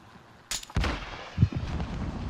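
Gunfire in Call of Duty: Modern Warfare: a sharp shot, then a heavier boom with a low thump and rumbling tail, close and loud with no talking.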